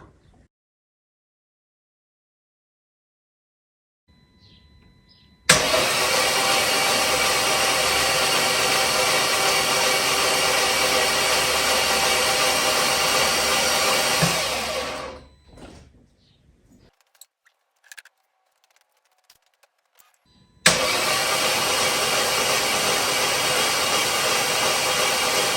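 Mercedes V12 engine cranking on the starter, a loud steady whirring drone for about ten seconds that winds down, then a quiet pause, then a second crank begins abruptly and continues.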